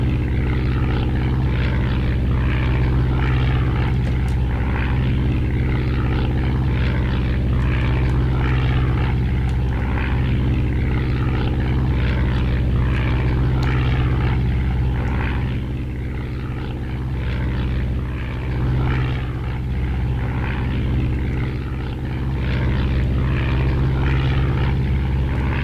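A WWI propeller plane engine from the flight game Red Baron 3D drones steadily, a loud, throbbing low rumble with a rhythmic prop beat that dips slightly midway, with no talking over it.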